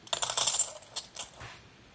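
Half dollar coins shuffled by hand like poker chips, a close, bright run of rapid clicking clinks that comes in bursts and then trails off into a few scattered taps.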